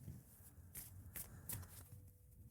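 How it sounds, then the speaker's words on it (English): A deck of oracle cards is shuffled close up, with soft papery riffles and crisp flutters in quick bursts, quiet and intimate against a hushed room. "as I'm shuffling these cards"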